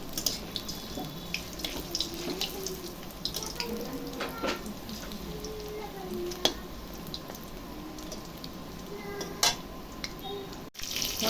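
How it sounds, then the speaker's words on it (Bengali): Chicken pakoras fry in hot oil, giving a faint, steady hiss and bubbling with scattered small pops and clicks, heard alone without talk. "পকোড়াগুলো অনেকটাই ভাজা হয়ে গেছে"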